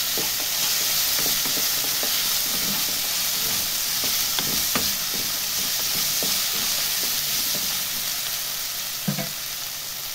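Potato pieces half-frying in hot oil in a pan, giving a steady loud sizzle and hiss broken by occasional stirring scrapes and pops, with no talking.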